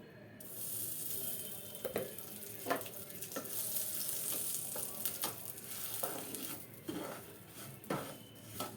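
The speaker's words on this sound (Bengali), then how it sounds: "এবারে এটার মধ্যে আমি একটু ঘি দিয়ে দেবো।" Semolina frying in ghee for halwa in a pan, a steady close sizzle broken by repeated sharp scrapes and clinks of a spoon stirring against the metal, with no talking.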